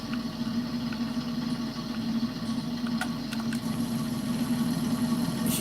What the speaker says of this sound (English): Hear that tractor running, so I just started her up and warm her up